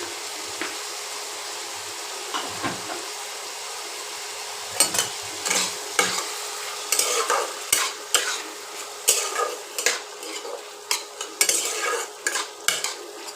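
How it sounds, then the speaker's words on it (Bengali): Potatoes with turmeric and salt fry in a pan for aloo posto, a steady sizzle broken by repeated close scrapes and clinks of a spatula stirring, growing busier toward the end. "একটু ভেজে নেব, তারপর মশলা দেব।"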